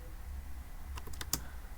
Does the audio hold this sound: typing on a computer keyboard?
yes